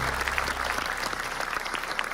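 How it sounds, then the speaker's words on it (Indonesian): Studio audience applause for Mas Kaisang during an Indonesian talk show segment, a steady 2-second wash of many hands clapping at moderate loudness with no talk over it. "Tepuk tangan Ya, buat Mas Kaisang"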